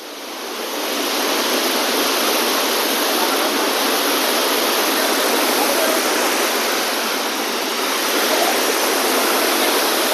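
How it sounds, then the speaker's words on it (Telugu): A waterfall near a mountain village in Nepal roars in a dense, continuous rush of falling water that stays loud and steady throughout. "ఇదే వాటర్ ఫాల్ అండి"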